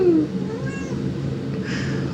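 A real cat brought onstage at a late-1980s theatre performance gives a drawn-out meow, up close, followed by a quieter whiny cry against a steady room murmur.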